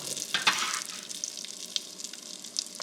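Potatoes fry in olive oil and butter in a skillet, giving a soft, steady crackling sizzle with a few sharper pops, fairly quiet and without voices.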